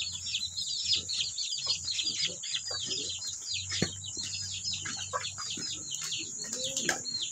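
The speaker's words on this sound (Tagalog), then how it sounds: "Manok ni Bossing." Backyard chickens clucking steadily in a Filipino home yard, with scattered bird chirps and calls overlapping throughout, moderately close and continuous with no talking.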